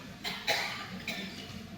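Two or three nearby coughs in quick succession, harsh bursts over faint background noise.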